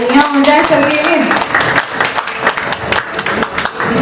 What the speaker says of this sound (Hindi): तालियां हो जाए सर के लिए